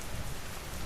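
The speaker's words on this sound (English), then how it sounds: "The rain has nearly stopped. Just a few drops now, falling lazy and far between." Light rain falls steadily, a soft even hiss of drops spread across the whole clip, faint and continuous with no voices.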